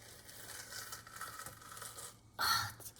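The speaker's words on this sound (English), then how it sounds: "Who likes that crunching sound?" Quiet wet rustling, then a short, louder crunching burst near the end as something is scooped.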